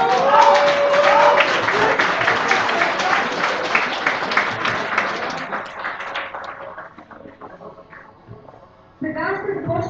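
An audience at an IT League event claps steadily for several seconds before the applause tapers off, and then a voice starts speaking.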